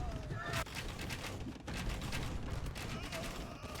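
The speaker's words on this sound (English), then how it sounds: "Bombard cannon still working away as well." Bombard cannons and bombard towers firing in a 3v3 real-time strategy match, a dense rattle of distant booms and impacts overlapping continuously under a quiet backdrop.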